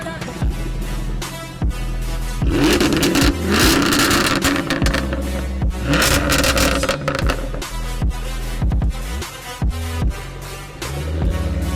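A supercharged 5-litre V8 in a rear-wheel-drive Jaguar F-Type R accelerates hard with a loud, continuous, rising engine roar and a few abrupt shifts in tone, heard close with no talking.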